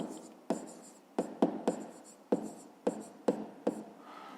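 A pen or pencil writes by hand while someone works a fifth-grade math exercise, giving short tapping strokes and scratches in an irregular rhythm, close and quiet, with no voices.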